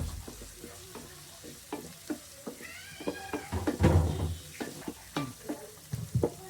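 Onion, garlic cloves and tomato sautéing in a pan, with a steady soft sizzle broken by repeated scraping stirs and clattering knocks of a spoon against the pan, close and moderately loud.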